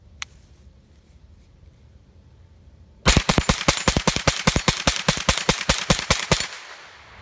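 A Kel-tec Sub 2000 9mm carbine fires a fast string of about twenty sharp shots at steel targets, loud and evenly spaced, following a quiet stretch with one faint pop.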